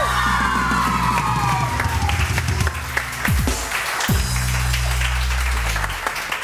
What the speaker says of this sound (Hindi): आप लोगों ने शोर मचाना तालियों के साथ